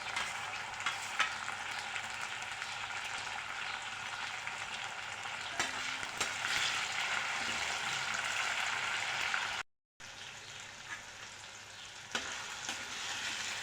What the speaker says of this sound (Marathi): आता आपण टोमॅटोसुद्धा घालून घेणार आहोत